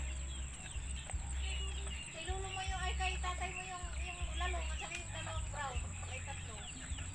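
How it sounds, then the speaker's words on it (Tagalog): Native chickens cluck and murmur close by in a busy, continuous chorus at a tilapia fish farm, with a steady low hum and a voice in the background. "Ito na yung mga manok nila, oh."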